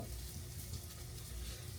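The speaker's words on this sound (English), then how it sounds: "I'm gonna put 4 in this pan." Salmon croquettes fry in a pan, giving a quiet, steady sizzle and low bubbling with no voices.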